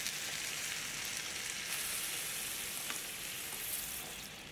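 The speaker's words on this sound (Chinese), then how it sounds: "再加入清水，没过锅贴的1/3，" Water poured over frying potstickers in a preheated, oiled electric griddle pan sets off a loud, steady sizzle and hiss that holds evenly throughout and eases slightly at the end, heard close and without speech.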